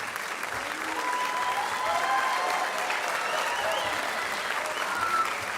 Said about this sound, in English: absolutely a nice round of applause